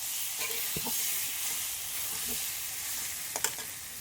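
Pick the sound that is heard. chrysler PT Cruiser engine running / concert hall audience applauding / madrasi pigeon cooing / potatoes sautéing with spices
potatoes sautéing with spices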